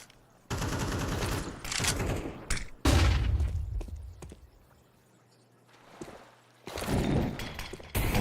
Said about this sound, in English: That's a creative flashbang from Lampada.